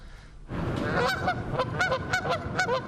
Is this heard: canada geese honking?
yes